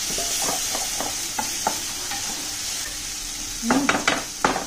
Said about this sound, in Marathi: आता थोडंसं त्यामध्ये थोडा वेळ भाजून घ्या, 1-2 मिनिट भाजून घ्या.